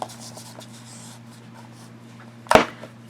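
A fine-nib fountain pen writes on paper in faint, soft scratchy strokes over a low steady hum, ending with a sharp tap near the end.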